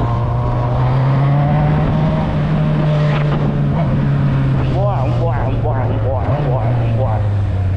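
Honda Hornet motorcycle engine droning loud and steady up close, with rising and falling revs near the end, while people talk over it.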